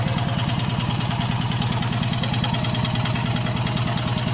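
A motorcycle engine fitted with two synchronized carburetors, with fresh o-rings, idling close by in an even, rapid chugging pulse that holds steady at a moderate-loud level with no change in speed, and no talk.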